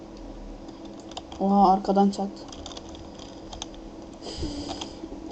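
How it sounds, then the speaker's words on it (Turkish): Computer keyboard keys pressed during a Wolfteam game, the keyboard placed beside the microphone: a brief burst of rapid clicky keystrokes near the middle, close and fairly loud, with someone talking briefly. "Şu anda tuşların sesini duyuyorsunuzdur."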